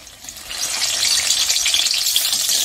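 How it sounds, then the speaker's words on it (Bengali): Vegetarian mock fish pieces fry in hot oil, giving a loud, steady hiss and crackle that swells slightly as they settle, close up with no voices. "তো চলো তেল গরম হয়ে গেছে, মাছের পিসগুলো ভেজে নেবো।"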